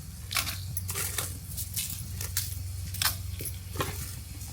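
Urad dal, cumin, mustard seeds and red chilli temper in hot oil, giving a soft continuous sizzle scattered with faint crackles and pops, close but fairly quiet.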